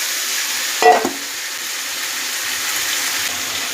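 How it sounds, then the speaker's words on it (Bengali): Marinated jackfruit and goat mince drop into a hot pan in one short splash, then settle into a steady, close sizzle of frying that carries on alone. "এঁচড় আর কিমা সব একসঙ্গে ঢেলে দেবো"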